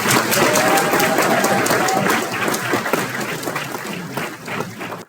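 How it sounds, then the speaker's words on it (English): A crowd at a First Friday community event applauds Ms. Charlotte: dense, loud clapping that holds steady for about five seconds, then thins and cuts off abruptly. "one more round of applause for Ms. Charlotte"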